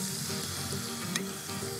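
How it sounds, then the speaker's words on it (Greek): Olive oil sizzles and crackles softly in a cooking pot on the stove, a faint, even frying hiss with an occasional sharper pop. "Ελαιόλαδο μέσα στην κατσαρόλα."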